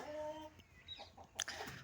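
An Asil rooster crows and clucks briefly at close range, quiet overall with no voices.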